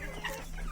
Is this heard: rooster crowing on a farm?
yes